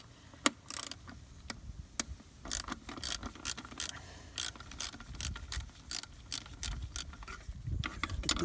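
A ratchet and socket loosen the idle control valve bolts on a BMW E36 six-cylinder. Short bursts of sharp, close ratcheting clicks come at irregular intervals over a quiet background, with no talking.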